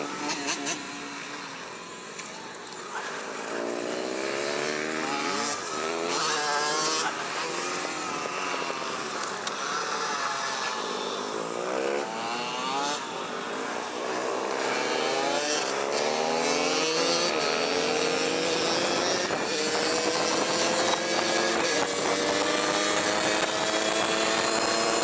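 Supermoto motorcycles race in the adult mini main at Redding, California, a continuous loud engine roar with rising and falling revs as bikes pass, no speech over it.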